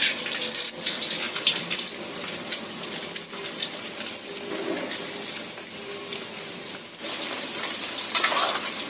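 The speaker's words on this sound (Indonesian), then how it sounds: "Kita panaskan minyak banyak ya" Steady crackling sizzle of food frying in hot oil, close up, with bursts of popping and spattering throughout.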